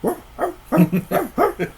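A man imitates a dog, giving a run of six or seven short, gruff woofs in quick rhythm, close and clear, with no other sound around them.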